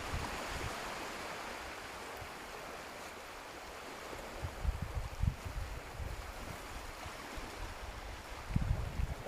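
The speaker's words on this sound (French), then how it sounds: "J'espère que vous entendez le bruit des vagues." Ocean waves wash in steadily as a broad, soft rush near a shoreline, with a few louder surges toward the end, heard during an outdoor full-moon yoga session with no talking.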